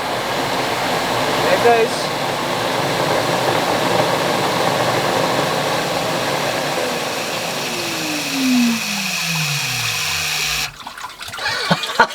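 Spear valve closing on a four-nozzle off-grid micro hydro Turgo turbine: a loud, steady rush of water with a falling whine, then the flow cuts off abruptly near the end, followed by a short spoken remark.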